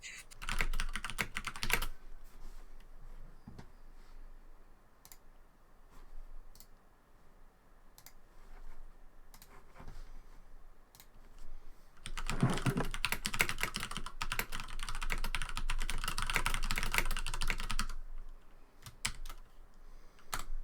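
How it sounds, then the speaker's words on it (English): Computer keyboard keys banged hard during typing, picked up over an online voice chat for a tabletop game session; bursts of clicky keystrokes with a long dense stretch midway, close and moderately loud, no speech. "We can hear you banging on the keyboards."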